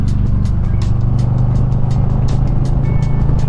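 A 2022 Harley-Davidson Low Rider S motorcycle accelerates, a loud, close, continuous low engine rumble holding steady over a few seconds with wind buffeting on top.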